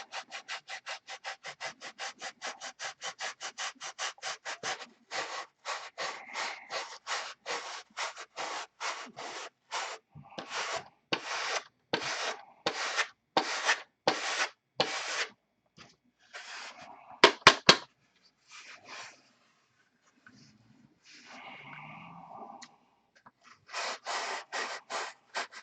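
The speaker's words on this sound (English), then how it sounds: "And hear the sanding." Rhythmic rasping strokes of hand sanding on wooden airplane parts, close up. Quick, even strokes at first, then slower bursts separated by short pauses.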